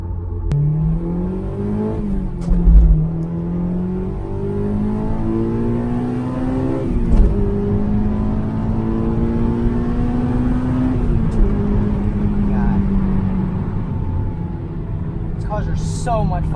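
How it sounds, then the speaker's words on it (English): A track-prepared Honda S2000 AP1 engine revs hard from inside the car, climbing through the gears toward 9,000 rpm with a rising whine broken by brief shift dips, loud and continuous from start to finish. "This car revs so high. Like it's crazy how high these cars rev from factory."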